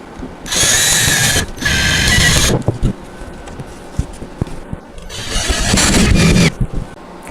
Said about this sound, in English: So let's get those screwed in.